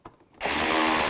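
A power tool drives 7mm screws to fasten a headlight on a 2010-2017 Chevrolet Equinox, starting after a short quiet lead-in and then whirring steadily and loudly at close range.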